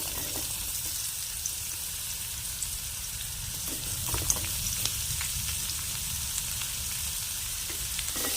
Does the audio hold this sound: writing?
no